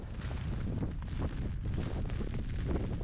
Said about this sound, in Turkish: Rüzgar da tam karşıdan esiyor.